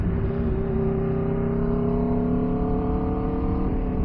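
A 2012 Aprilia RSV4 motorcycle engine drones steadily while being ridden, a strong continuous tone holding at a constant pitch with no talking.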